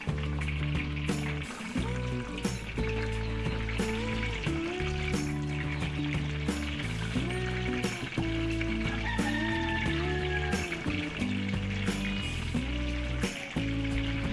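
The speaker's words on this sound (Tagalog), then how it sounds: "Prito po tayo dito ng ating embutido." Embutido fries in a pan in a Filipino home kitchen, giving a constant crackling sizzle beneath steady background music.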